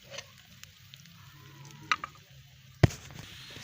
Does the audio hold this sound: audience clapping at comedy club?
no